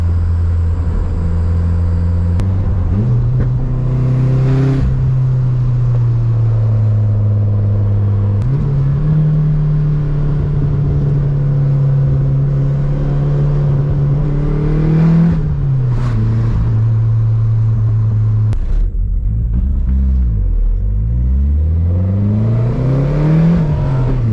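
A Ford Mustang SVO fitted with an SN95 5.0L throttle body pulls hard from inside the car, its engine droning loud and steady as revs climb and drop through several gear changes, with no talking.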